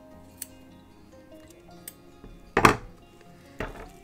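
Scissors snip through wool while trimming a needle felted baby chick, giving a couple of sharp, brief cuts over a quiet room with faint scattered ticks.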